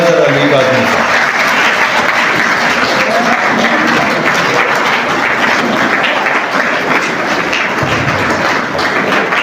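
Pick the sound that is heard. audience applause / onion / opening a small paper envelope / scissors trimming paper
audience applause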